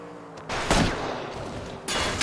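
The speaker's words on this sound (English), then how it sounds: "I'll try to shoot out his tires." Gunshots fired at a fleeing car's tires during a chase in L.A. Noire, a few loud close reports over a constant engine and road roar.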